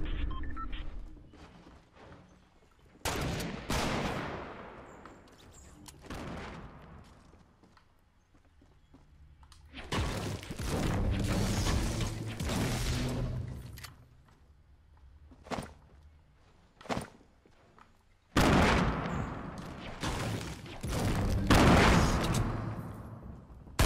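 Bursts of gunfire from the Fortnite video game, including sniper fire, come in three long dense volleys separated by quieter gaps with a few isolated sharp shots.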